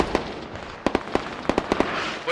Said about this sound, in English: Mortars dropping on the hab.